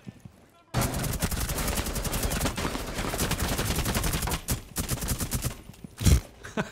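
An AK-74M assault rifle in the Rainbow Six Siege video game fires long rapid bursts that nearly fill the stretch, loud and close, with brief pauses and a heavy thump near the end.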